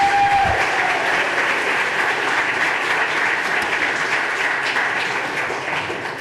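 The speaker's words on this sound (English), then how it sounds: "I appreciate the applause, but we really would prefer to try to keep that to either nothing or a very minimum." Audience at a government affairs hearing breaking into applause, a loud, dense, even patter of many hands that carries steadily throughout and eases slightly at the close.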